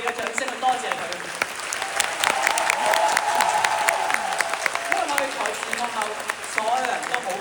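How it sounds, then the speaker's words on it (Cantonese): A theatre audience at a touring stage show in Guangzhou claps in a sustained, dense round of applause for the director on her birthday, many hands close and far blending into a steady roar. "我哋俾再次嘅掌聲去多謝佢"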